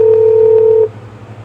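A single loud, steady telephone tone holds for under a second near the start and then cuts off abruptly, leaving a quiet line hum.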